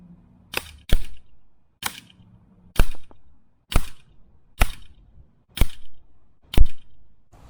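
An Umarex Notos air rifle fires pellets at targets, giving about eight sharp, loud cracking shots spaced irregularly, each with a brief thud of impact or action noise after it, in an otherwise quiet setting.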